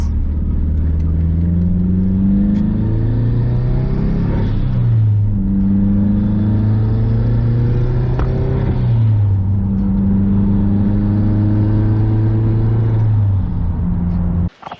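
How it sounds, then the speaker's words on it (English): A Subaru car drives up nearby. Its engine hum rises and falls through several revving swells over about fifteen seconds, loud and close, with no talk over it. "Oh, we've got a Subi."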